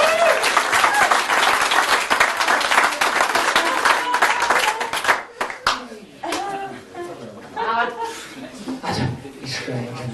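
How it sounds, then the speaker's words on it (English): Audience at a comedy stage hypnosis show gives loud, dense applause for several seconds, which then fades into scattered claps, chuckles and people talking. "Give this lady a round of applause and she goes back to the audience."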